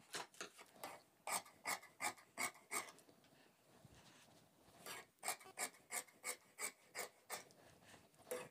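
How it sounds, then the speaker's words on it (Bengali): Scissors cutting fabric for ladies' pants: a run of crisp, rhythmic rasping snips, close and fairly quiet, pausing briefly midway before another steady series of cuts. "এখন আমি কাটিং করব।"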